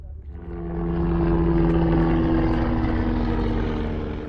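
Aircraft flying overhead at a mangrove park on Saadiyat Island, Abu Dhabi: a low engine drone swells in over the first second, then holds loud and steady with a humming tone, fading slightly at the end.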